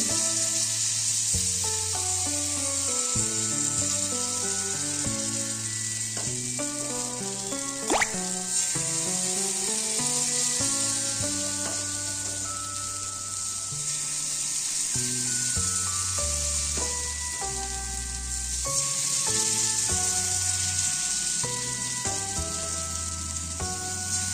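Patishapta pitha batter sizzles in an oil-brushed frying pan, a steady soft hiss running throughout beneath a melodic music track.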